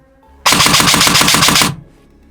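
An Eshooter Kestrel V2 airsoft replica with a Bluetooth electronic trigger unit fires one loud, rapid full-auto burst of about a second, a fast even rattle of shots that stops abruptly into quiet.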